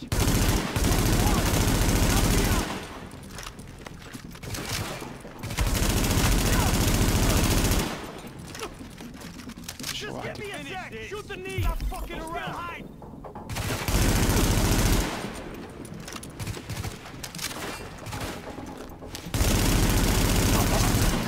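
Rapid automatic gunfire from The Division beta bursts out loud in several long volleys, with quieter stretches of scattered shots and shouting players talking between them.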